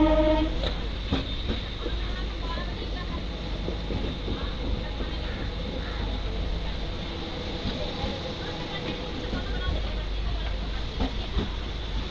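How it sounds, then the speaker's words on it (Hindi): A new MEMU local train pulls into Daniyama Junction with a loud, continuous rumble and clattering of wheels on track, heard up close and steady for several seconds, with no speech over it. "तो देख सकते हैं अपनी ट्रेन की अराइवल हुई है दनियामा जंक्शन पे।"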